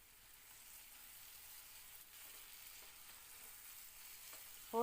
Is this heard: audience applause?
no